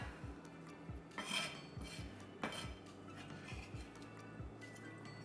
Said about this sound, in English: go ahead and cut the cilantro and the parsley